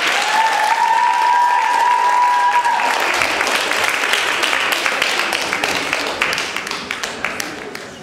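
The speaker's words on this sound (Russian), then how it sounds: "Артистов нужно встречать аплодисментами." An audience applauding for young child dancers at a children's flash mob, sustained dense clapping that gradually thins and fades toward the end, with a brief tone at the start.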